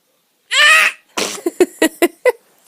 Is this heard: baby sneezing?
yes